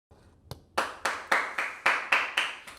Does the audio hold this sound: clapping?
yes